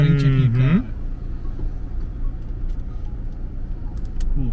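A Nissan Altima sedan drives off with a steady low road and engine rumble inside the cabin, after a short burst of someone talking at the start.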